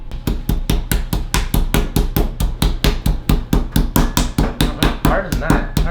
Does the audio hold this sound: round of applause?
no